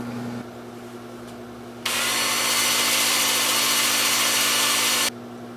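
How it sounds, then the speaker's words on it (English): A small live-edge cherry wood bowl is power-sanded at a workbench: a low motor hum gives way to a loud, steady abrasive whir for about three seconds, then cuts off abruptly, with no talking. "And then I'll just take this over to the workbench and sand that up."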